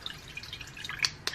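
Water drips from a small makeup brush after a quick rinse, a few light close drips in a quiet room, the clearest two near the end.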